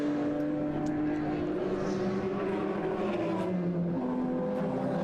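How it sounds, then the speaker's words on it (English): A TCR touring race car at Croft Circuit during a 750 Motor Club race produces a loud, sustained engine drone with shifting tones, steady throughout the five seconds with no voices. "TCR car."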